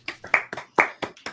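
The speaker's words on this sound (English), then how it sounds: "round of applause for the winner of the quiz" A few people clap for the winner of a quiz, sparse irregular hand claps close by, small group rather than a big crowd, brief and uneven.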